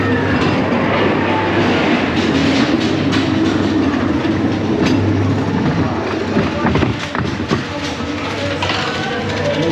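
Ghost train cars at Blackpool Pleasure Beach rumble and clatter steadily along the track, loud and close, with a dense mechanical roar, faint background voices, and a slight drop in intensity near the end.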